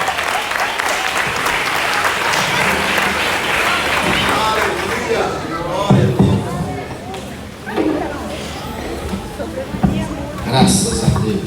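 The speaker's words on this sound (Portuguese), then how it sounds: "Aplauda o Senhor" A church congregation claps together in a dense, sustained round of applause mixed with crowd voices, swelling and easing in waves.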